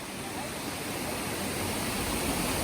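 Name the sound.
Nugadeka waterfall flowing in Sinharaja forest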